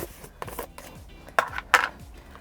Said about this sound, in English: by cutting my onion, I'm basically just going to cut little strips into it